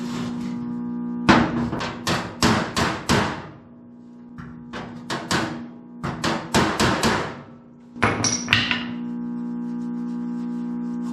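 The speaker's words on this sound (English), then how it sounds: "Try a little hammer and dolly." Rapid metallic hammer strikes against a sledgehammer used as a dolly ring out in bursts of several blows each on truck sheet metal, loud and close, with the metal ringing between groups.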